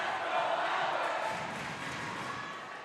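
Lions supporters fill a gym at a volleyball state final, a steady broadband roar of crowd noise and shouting that holds loud throughout and eases slightly toward the end.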